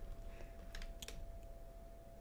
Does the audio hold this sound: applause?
no